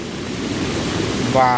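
Rushing floodwater from a torrential Konkan monsoon downpour roars loudly and continuously, a dense close-up rush of noise that never lets up.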